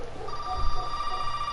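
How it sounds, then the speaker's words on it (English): A telephone rings in the video game Resident Evil 7, a steady electronic bell tone sustained through the moment, fairly loud against a low ambient rumble. "And the phone's ringing again."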